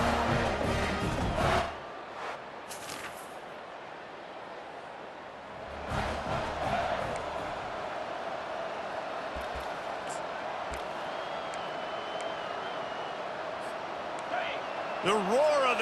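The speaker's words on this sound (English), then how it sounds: "The roar of the crowd trying to fuel this defense to keep them pinned in their own end." Stadium crowd roaring in EA Sports College Football 25, a steady broad wash of noise from a big college football audience that swells again near the end, with an announcer talking over it.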